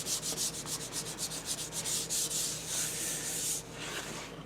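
Close, rhythmic back-and-forth strokes of sandpaper scraping across the worn wooden top of an old school desk, a steady rasping scrub that trails off near the end.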